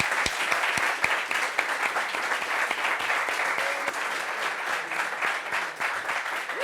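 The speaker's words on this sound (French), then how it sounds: "on applaudit pour elle" Studio audience applauding a guest on a French-language TV talk show, a dense, steady wash of clapping hands that holds at an even level throughout, with no voices breaking through.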